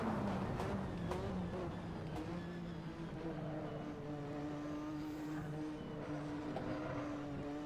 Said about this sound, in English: blipping the throttle through the corner to keep the turbo spooled up